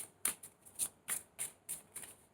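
Tarot cards are shuffled by hand in close, crisp bursts, about seven riffling snaps spaced at a fairly even rhythm.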